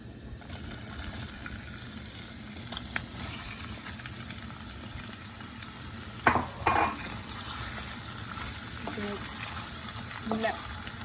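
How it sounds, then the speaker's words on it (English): Potato pieces sizzle steadily in hot oil in a pan for a dry Indian potato dish, with occasional clinks and scraping from stirring. "that's a nice sizzle on there. And then the potatoes are going to go straight in"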